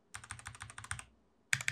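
A computer keyboard fitted with O-rings is typed on in a quick run of close, muted keystrokes, then a brief pause before a few sharper strikes.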